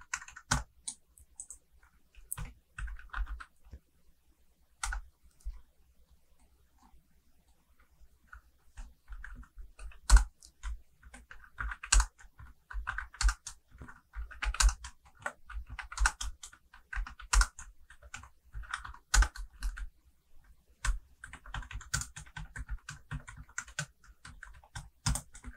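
Numbers typed rapidly on a computer keyboard's numeric keypad while entering data in Excel, with dense irregular bursts of key clicks and short pauses, close and moderately quiet.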